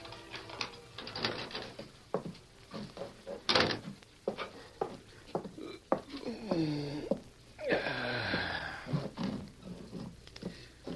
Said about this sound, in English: Corey Meade entered the front door of his boarding house